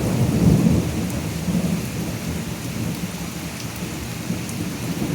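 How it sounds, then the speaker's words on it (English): Steady rain and a thunderstorm outdoors by trees, a continuous wash of falling rain with a low thunder rumble near the start that fades into the constant downpour, and no voices. "Let's get some rain."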